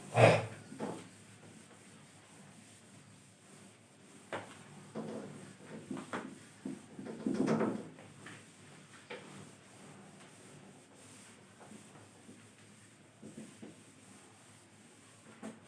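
Several scattered rubbing swipes of a board being erased during a classroom lecture, soft and fairly close, with pauses between strokes and no talking.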